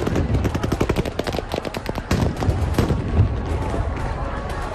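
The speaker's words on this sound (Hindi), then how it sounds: "रूसी सैनिकों ने इन्हें खदेड़ने के लिए गोली और स्टन ग्रेनेड से हमला बोल दिया" Rapid bursts of gunfire mixed with sharper stun grenade blasts as Russian soldiers disperse street protesters in Kherson, a dense, loud volley of overlapping shots and cracks throughout.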